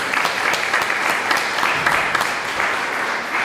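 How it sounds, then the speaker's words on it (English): An audience at a higher-education arts event gives a hand to a music professor and composer, a loud, close, continuous burst of many hands clapping at an even pace with no talking over it. "So let's give him a hand clap."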